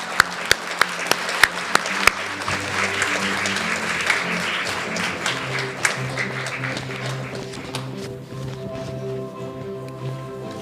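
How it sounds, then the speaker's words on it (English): Moderate applause from an audience at a youth speech competition, with a few sharp near claps at the start, then a steady wash of clapping that fades toward the end as a tonal hum emerges. "Would you please give a nice warm round of applause to Victoria Fong."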